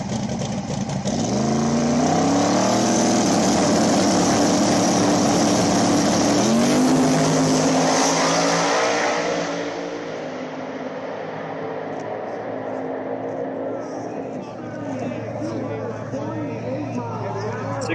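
Street cars drag racing down a quarter mile, a loud roaring engine surge that builds then fades into a distant lower drone, with voices talking over it.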